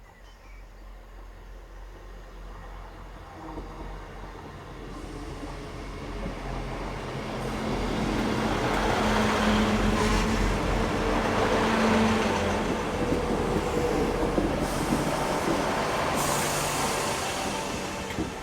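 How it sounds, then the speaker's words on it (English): A Class 158 Sprinter diesel train runs along with a steady rolling rumble and hiss heard from onboard, rising gradually in loudness, with no speech. "ended up riding aboard a Class 158 Sprinter for the first and only time on the entire UK trip"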